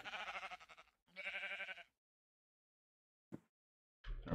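Sheep bleating in the video game Minecraft (Omnifactory modpack) beside a small fenced pen, two long wavering bleats, then a short blip and another bleat starting at the end, loud and close with no talk.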